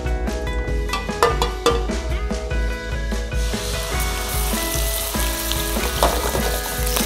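Oil sizzles loudly in a heated wok as beef fries, a continuous crackling hiss with scrapes and clinks of stirring, music playing underneath.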